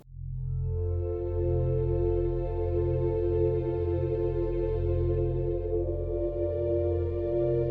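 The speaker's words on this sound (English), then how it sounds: "This is what the V8070 sounds like pulling out from your door." A Chanje V8070 electric delivery truck pulls away, giving off a steady, loud electric hum with layered tonal whine that holds constant throughout, with no engine rumble and no voices.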